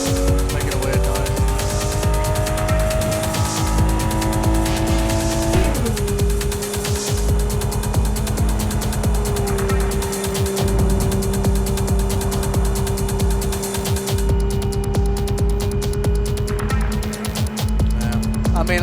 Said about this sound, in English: I think I'm missing part of my car by the sounds. Making a weird noise.